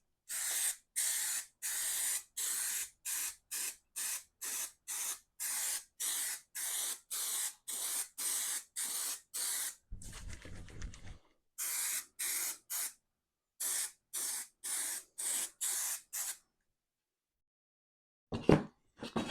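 An aerosol spray can coats a 1992 Toyota pickup bench seat in a long run of short, sharp hissing bursts with brief gaps between them, close and loud, and a few clunks toward the end.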